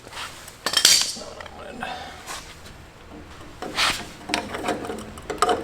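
Snips cutting pieces out of sheet metal for a turbo LS1 cold side on an F100, a few sharp metallic snipping and scraping bursts, close, with someone talking over them.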